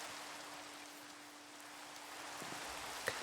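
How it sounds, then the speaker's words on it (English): Steady patter of falling rain in Minecraft, a soft, even hiss lasting throughout with no voices, plus a faint low hum and one brief tap near the end. "Oh, it's raining."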